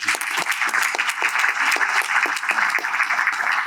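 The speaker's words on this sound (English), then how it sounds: "please join me in a round of applause for our panelists." An audience applauding panelists at a legal conference, brisk, even clapping from a sizeable crowd filling the room throughout.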